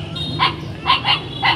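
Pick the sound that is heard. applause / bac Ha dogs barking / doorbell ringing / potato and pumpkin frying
bac Ha dogs barking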